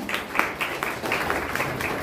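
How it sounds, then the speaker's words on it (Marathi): Audience applause at a Marathi community celebration of Dr. Babasaheb Ambedkar's 133rd birth anniversary on 14 April, following a song performance: a steady, dense wash of clapping from a crowd, fairly close and sustained throughout. "त्यांच्यासाठी जोरात टाळ्या."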